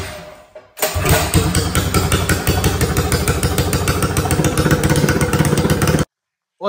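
A 1985 Honda ATC 110 three-wheeler engine catches and runs loud and close, a rapid rattling putter with a steady beat for several seconds before cutting off abruptly.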